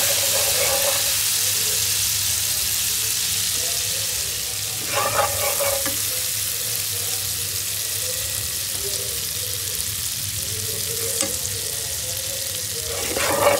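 Egg frying in oil in a pan in a home kitchen, a steady broadband sizzle that holds for the whole stretch, with a few louder crackling spurts and occasional stirring clatter, no talk.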